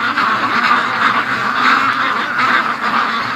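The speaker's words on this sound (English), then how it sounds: "So, just look at them. I love ducks." A flock of free-range ducks quacks nonstop at close range, a dense, overlapping chorus of nasal calls with a few goose-like honks mixed in and no talking.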